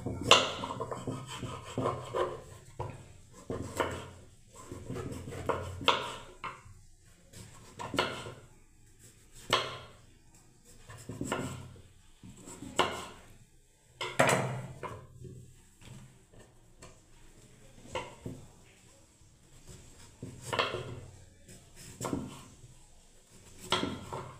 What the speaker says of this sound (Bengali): পেঁপেটাকে কাটছি এবারে